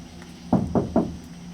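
Three evenly spaced, dull knocks come close together at night in a forest, with faint insect chirping in the background.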